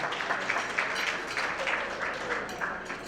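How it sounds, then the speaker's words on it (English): Applause at a high school athletic awards banquet in Vineland as the boys basketball team comes up, a steady wash of clapping from the room for about three seconds with a faint voice mixed in. "Okay, first I'd like to clap up for us to clap for Isaiah Blakely"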